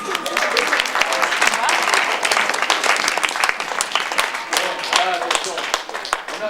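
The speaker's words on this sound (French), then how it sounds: "On applaudit, s'il vous plaît." Sustained audience applause fills an improv theatre show, dense and steady throughout with a few voices mixed in.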